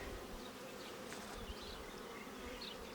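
Steady droning buzz of many honey bees at a Ukrainian-Alpine hive during spring nest expansion, close and continuous, with no voices.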